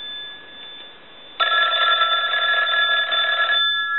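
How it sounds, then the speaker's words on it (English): A Stromberg Carlson 500 rotary telephone bell rings loudly for about two seconds with a metallic clatter, then cuts off, leaving a steady tone behind. "So we want to ring it on the high side now."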